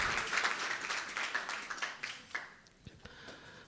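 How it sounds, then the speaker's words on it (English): Conference audience at the Internet Governance Forum 2022 applauding a speaker coming to the stage, a moderate patter of clapping that fades out over a few seconds, leaving a few scattered taps. "Please give him a round of applause as he comes to the stage."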